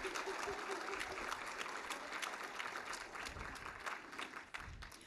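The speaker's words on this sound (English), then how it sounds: "We can give her a round of applause." An audience at an all-staff rally applauds a staff member, a faint, dense wash of clapping from many people with some voices mixed in.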